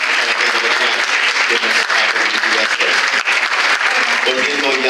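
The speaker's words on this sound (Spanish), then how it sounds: "brindarle un fuerte aplauso a Génesis Pérez Bruno, que nos está viendo desde Londres" Sustained applause from an audience at a book presentation in a formal hall, many hands clapping densely and steadily at an even loudness for the whole stretch, with no pause or single voice standing out.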